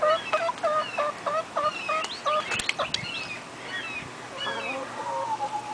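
A pet hen clucks repeatedly at close range in a rapid run of sharp calls, easing into softer, scattered clucks with brief faint noises mixed in.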